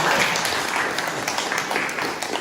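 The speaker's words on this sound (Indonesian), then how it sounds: "Tepuk tangan." A room of people applauding together, brisk and steady clapping that holds at an even level for a couple of seconds.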